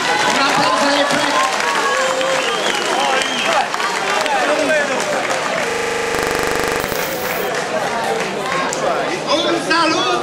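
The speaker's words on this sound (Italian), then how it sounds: "Un applauso del Preside." Loud applause from a school audience greeting the headmaster, dense clapping and crowd chatter throughout, broken briefly by a short electronic burst before the clapping resumes.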